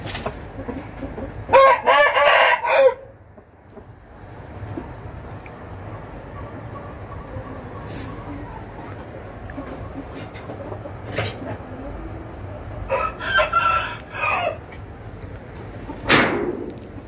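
Roosters crow nearby in several separate bursts, one after another with pauses, over a constant insect-like hum and faint background noise.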